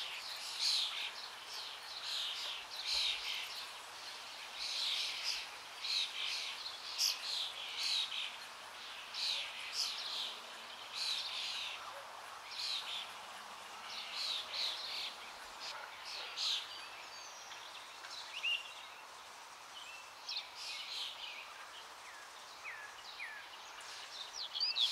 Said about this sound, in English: Yellow jungle babbler mostly found in India and Sri Lanka.